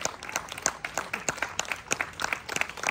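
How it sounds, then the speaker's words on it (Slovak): Theatre audience applauding after a performance by a small amateur theatre company, a steady burst of clapping from many hands at moderate distance, with no voices over it. "Poď, toto je potlesk aj pre teba."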